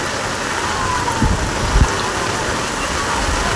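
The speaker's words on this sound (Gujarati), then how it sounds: "હમણાં લગભગ 8:30-9 વાગે વરસાદ પુષ્કળ શરૂ થયો છે, હજુ બંધ થવાનું નામ લેતું નથી" Heavy rain pours down in Ahmedabad as a dense, steady hiss that fills the whole moment, with a couple of brief low thumps near the middle.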